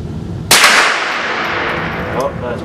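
A single sharp gunshot from a Marlin 795 .22lr rifle at an outdoor range, a loud close crack with a brief ringing tail.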